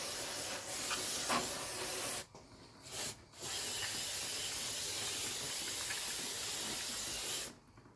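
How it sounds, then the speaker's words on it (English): Aerosol brake cleaner sprays in long steady hissing bursts onto the brakes of a Mercedes-Benz AMG, close and loud, with two brief pauses and a stop near the end. "Get our brake clean. Do our best to clean up as much as we can."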